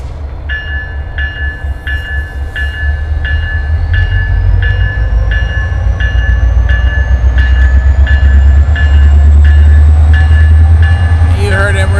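A Norfolk Southern locomotive pushes back an auto rack train at a rail yard, its loud steady diesel rumble building and holding throughout, with a regular beeping warning signal repeating alongside and a brief higher hiss near the end.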